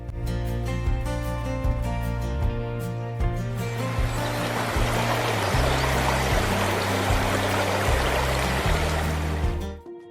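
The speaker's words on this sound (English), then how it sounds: "the journey moves deeper into the wilderness to face a powerful, amber-colored waterfall" A steady, heavy rush of falling water roars continuously at amber-colored Tahquamenon Falls in Michigan, with a low rhythmic pulsing underneath, fading out abruptly at the very end.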